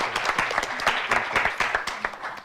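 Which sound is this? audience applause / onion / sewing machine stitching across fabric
audience applause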